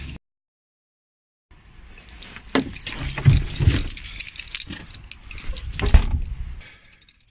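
Keys jangle and rattle close by beside a Skoda Fabia car after a moment of silence, a busy burst of metallic clinking and handling noise with no clear engine note and no talking.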